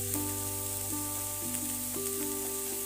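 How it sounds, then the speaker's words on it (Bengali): Potato and cauliflower sizzle steadily in a little oil as they are stirred with salt, a continuous close frying hiss with a low background hum. "লবণ দিয়ে বেশ খানিকক্ষণ নাড়াচাড়া করে ভেজে নেব।"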